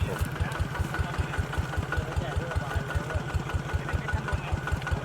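A small engine-driven water pump draws clean pond water into a pipe to flush out murky water. It gives a steady, rapid, even chugging, close and continuous throughout.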